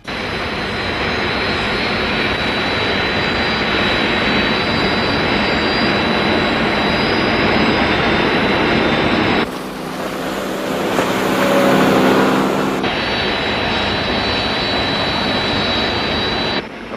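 Search aircraft jet engines launching in a Thunderbirds TV episode, a loud continuous high roaring whine with a brief shift in tone partway through before the steady roar returns.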